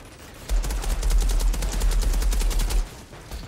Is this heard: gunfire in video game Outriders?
yes